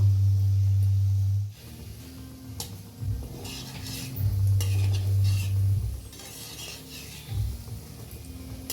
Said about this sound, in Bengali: এইভাবে আমি উল্টে পাল্টে ঘুরিয়ে ঘুরিয়ে ভেজে নেবো